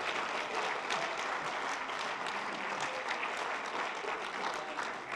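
A church congregation claps together during a worship service, a dense, steady wash of many hands sustained throughout without pause.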